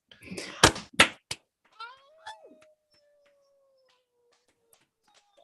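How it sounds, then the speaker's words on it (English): Dogs howling indoors, a long sustained wavering howl rising then holding steady for a few seconds after a couple of sharp thumps and brief yelps, fading into near silence. "Is that what's triggering the dogs?"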